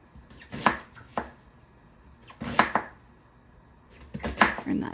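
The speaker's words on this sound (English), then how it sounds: "I'm gonna give this a loose chop." Kitchen knife loosely chopping chili ingredients on a cutting board, a few sharp close chops in small bursts with quiet pauses between.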